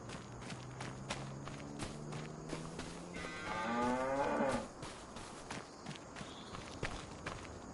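Cattle in Farming Simulator 25 moo in a long, loud drawn-out call midway through, over soft repeated footsteps and a faint background hum; no talking.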